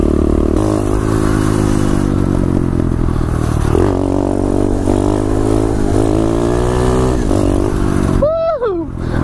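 Pit bike engine humming steadily as it rolls downhill off-road, close and loud, with shifting engine tones, clatter and a brief whine near the end.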